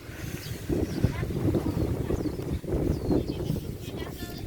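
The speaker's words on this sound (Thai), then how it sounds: "สังเกตลม ลมหนาวลมหนาว" A cold winter storm wind gusts and roars in blustery swells against the microphone, with a person speaking intermittently over the rushing noise during a power outage.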